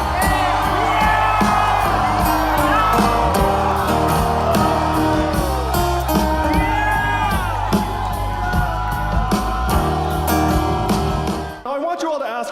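A rain-soaked outdoor crowd at a candidate's Iowa rally whoops, shouts and cheers loudly and continuously, mixed with a voice talking over it, before the noise cuts off abruptly near the end.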